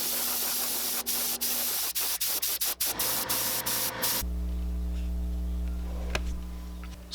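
Shark white paint sprayed onto a jointed belly jerkbait lure: an airbrush hisses in short bursts with brief gaps, then a steady spray hiss over a low motor hum, close by.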